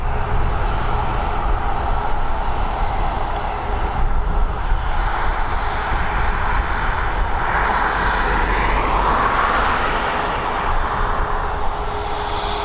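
An airliner lands or departs at Dublin Airport, its engines a loud, continuous roar heard from nearby, steady throughout with a slight rising whine in the middle.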